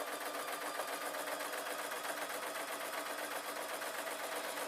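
A sewing machine runs steadily while shirring a pillowcase dress, its rapid stitching whir continuous and even throughout, close by with no talking.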